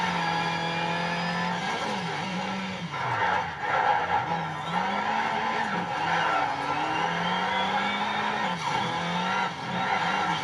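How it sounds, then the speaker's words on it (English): Tires squeal and slip on a powerful front-wheel-drive car in Need for Speed Shift 2 Unleashed, a steady skidding screech over a droning engine whose pitch rises and dips, loud and continuous throughout. "It has so much acceleration that then the tires can't keep up and it just slips way too much."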